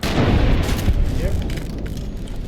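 Shotgun blasts in Fallout New Vegas, a heavy booming burst at the start that rolls into a loud, sustained rumble of game combat lasting a couple of seconds.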